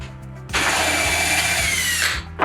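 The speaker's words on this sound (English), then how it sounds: "I'm going to be using a 4-inch hole saw for the valve" A 4-inch hole saw on a power drill cuts through a shower wall panel, a loud close two-second burst of whining, grinding drilling that starts and stops abruptly.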